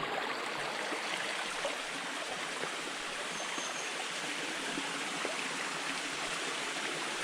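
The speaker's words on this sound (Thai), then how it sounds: "เป็นน้ำตกแล้วท่านผู้ชม" Steady rushing water from a waterfall in deep forest, a continuous broadband roar with no voices.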